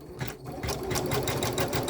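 An embroidery sewing machine stitches a quilt held in a magnetic hoop, giving a steady, close, rapid mechanical whir with even stitch pulses throughout.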